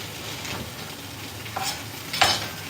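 Yellow and red onions sizzle softly in a sweet and spicy chicken stir fry, a low continuous hiss broken by a couple of sharp utensil clinks near the end.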